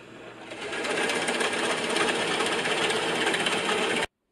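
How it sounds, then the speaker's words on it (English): An inch-and-an-eighth Forstner bit boring a hole while building a replica of a 430-year-old Mascalls mouse trap: a steady, close whirring grind lasting about four seconds before cutting off abruptly. "first thing we're going to do is drill 5 holes in here. I got an inch and an eighth Forstner bit in here."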